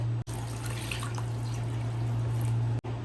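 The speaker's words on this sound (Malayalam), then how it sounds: "ആദ്യം ഇതിന് ഒരു 2 വെള്ളം നമുക്ക് കഴുകിയെടുക്കാം." Squid being rinsed in water, a soft continuous splashing and trickling wash with a low steady hum beneath, fairly faint and close, broken by two brief moments of near-silence.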